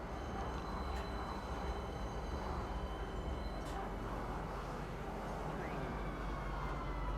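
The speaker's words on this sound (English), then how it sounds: "Alright, so now we're on the tram to Teasa Spaceport." A tram rolls toward Teasa Spaceport in the game Star Citizen, a low steady rumble of rail travel with faint high whines and a brief chime, continuous and fairly quiet.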